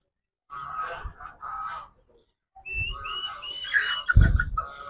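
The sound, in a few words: chickens and roosters in a village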